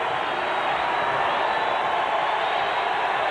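A basketball arena crowd roars in a steady, broad wash of noise, continuous and undifferentiated, with no single voice standing out.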